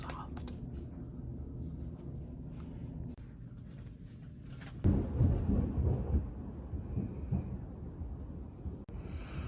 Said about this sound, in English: It is now storming. Heavily. Thunder, lightning.